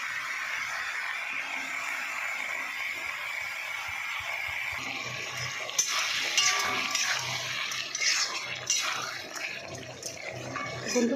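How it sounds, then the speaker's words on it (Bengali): Bottle gourd pieces tipped into a hot pan of oil and chili powder, then stirred, give a steady frying hiss that turns louder and busier midway with scraping and splashy crackle; no one talks. "তো বন্ধুরা, আমি এবারে লাউটা ঢেলে দেবো।"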